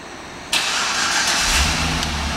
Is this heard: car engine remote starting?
yes